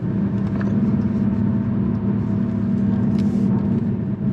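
A 2022 Lexus RC 350 F Sport coupe taking a corner at about 60 mph, giving a steady engine drone with road and tire noise throughout, even and moderately loud from inside the cabin.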